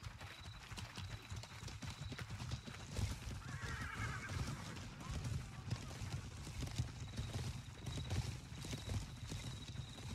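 Horse hooves clip-clop and a whinny rises during a video game instance battle, a steady busy clamor with low rumble and voices talking underneath throughout.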